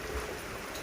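Rain falling during a storm in Laos at night, a dense steady hiss of drops on surfaces, continuous and fairly close for under a second.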